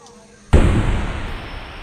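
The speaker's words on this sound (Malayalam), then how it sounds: "ആ അമിട്ട് പൊട്ടിക്കുമ്പോ നല്ലതായിട്ട് കേൾക്കുന്നുണ്ട്" A sudden loud bang after near silence, followed by a long crackling, rumbling burst that slowly fades, like a firecracker exploding close by.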